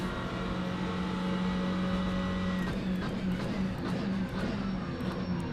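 GT4 race cars driving in a pack in a sim racing game at the Bahrain circuit: a steady, fairly faint drone of several engines with passing revs, and no talking.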